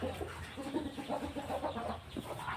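Rooster of a fighting-cock breed clucking in a series of short, close, moderately loud throaty clucks and grunts in an irregular rhythm, with no talk.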